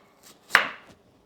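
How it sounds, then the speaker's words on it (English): One sharp knife chop through thick carrot on a cutting board, a single crisp close thud with a faint lighter tap just before and after, no voices. "I'm just chopping these up and then just scooting them right over here to our sheet pan"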